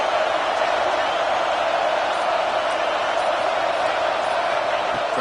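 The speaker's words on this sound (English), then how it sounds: "the crowd really making some noise now, trying to help out this defense to get this stop near the goal line" Stadium crowd noise in a college football video game, a steady broad roar of a large crowd making noise near the goal line, continuous and fairly loud.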